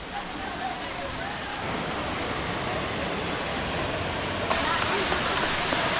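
A waterfall roars in a steady, dense wash of broadband noise from close by, continuous throughout and getting a touch brighter and louder near the end.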